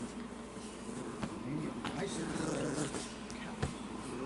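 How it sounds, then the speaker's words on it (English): A dog growls and grumbles through a tug game in a sandbox, the low rumbling steady and close with a few sharp tugs and thumps, while a person talks over it. "See, you guys, my dog doesn't want to play nice in the sandbox."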